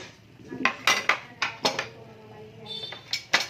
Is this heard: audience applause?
no